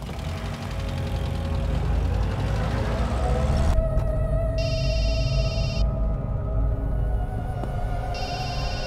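A telephone rings in bursts of electronic trilling over a steady, low engine-like rumble that runs throughout.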